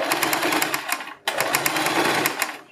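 Sewing machine running steadily while stitching a side-cut kurti, a close, continuous mechanical whirr with rapid needle ticks, briefly pausing midway before resuming.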